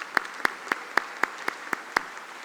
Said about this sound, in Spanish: Un fuerte aplauso nuevamente y un saludo a Chile